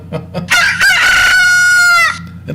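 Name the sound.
rooster crowing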